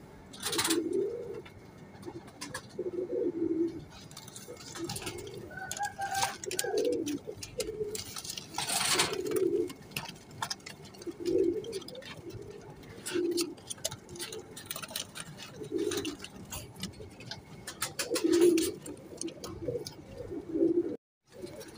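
Teddy pigeons coo in repeated soft, throaty phrases that come in an uneven rhythm. The birds sound close but fairly quiet, with faint ticking and light background noise.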